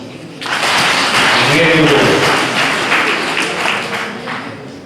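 Applause from wedding guests at a church ceremony, a steady dense clapping that swells and holds for several seconds, filling the room at close range.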